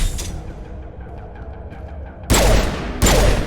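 Pistol fire in the video game Mass Effect Legendary Edition: two loud, sharp reports cracking out close together after a quieter stretch of low rumble.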